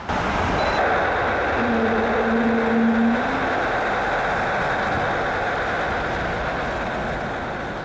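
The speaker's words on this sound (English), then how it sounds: "During the storm, this Turkish Airlines aircraft attempted to take off again after trying to land several times" A Turkish Airlines aircraft aborting its landing and climbing away in a storm, a continuous loud engine roar with a brief tonal whine early on, steady and sustained throughout.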